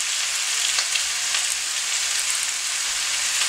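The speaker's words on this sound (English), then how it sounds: "So I'm going to saute this and have it wilt down a little bit, get it soft." Vegetables sauté on high heat in a pan for a stir-fry bowtie pasta, giving a steady, even sizzle with soft crackles and no talking.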